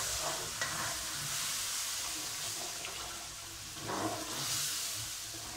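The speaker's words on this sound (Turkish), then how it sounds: "şimdi sütümü böyle yavaşça boşaltıyorum. Ve karıştırıyorum da tabii ki." Milk is poured slowly into semolina halva in a pan while it is stirred, giving a continuous rushing, sizzling hiss with soft scraping and a slight swell partway through, all close and with no talking.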